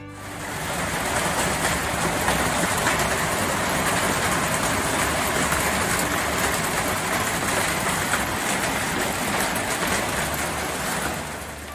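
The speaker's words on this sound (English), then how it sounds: "I heard the pitter-patter of rain on the roof, and sure enough, it's starting to rain" Steady rain pattering on a roof outdoors, a continuous dense hiss with no breaks and no voices.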